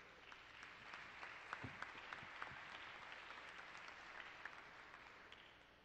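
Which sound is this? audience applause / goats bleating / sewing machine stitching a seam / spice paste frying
audience applause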